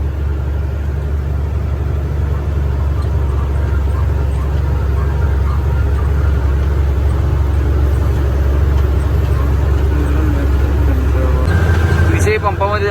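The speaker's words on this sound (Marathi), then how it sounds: "आता चौथा गिअर चौथा गिअरमध्ये जरा सीक चमली पण काय विषय नाही चढते चढते" A loaded truck climbing the Khandala ghat in fourth gear, its engine holding a steady, heavy low drone from inside the cab, with a voice briefly rising over it near the end.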